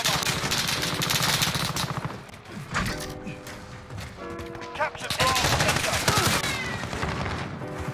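Rapid, loud bursts of AUG rifle fire in Modern Warfare, close and sustained with brief pauses between strings of shots, mixed with other game effects and a voice underneath.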